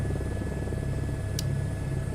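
An Airbus H225 helicopter in a flight simulator flies with a steady, continuous rotor and turbine drone, low rumbling thump under a faint high whine, with one brief click partway through.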